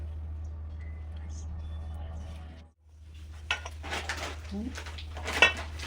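A spoon mixes sugar into besan laddu mixture in a pan, giving scattered scraping and metallic clinks that build after a brief pause, over a steady low background hum.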